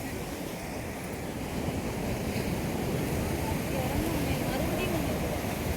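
Surf breaks steadily on a rocky stretch of Kovalam beach on the Arabian Sea, a continuous close roar of waves blended with wind rumble, with a voice faintly audible beneath it.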